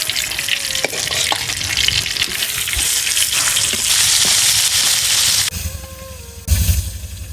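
Hilsa fish frying in hot oil, a loud steady sizzle with scraping and stirring clatter, the sizzle dropping away near the end before a brief burst of louder crackle.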